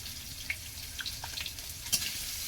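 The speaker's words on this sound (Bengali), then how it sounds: "আমটা দিয়ে দিলাম দিয়ে আমটা একটু ভাজবো" Raw green mango pieces fry in a pan with five-spice seeds, giving a steady soft sizzle with a few light stirring clicks and scrapes, fairly quiet and close, with no talking.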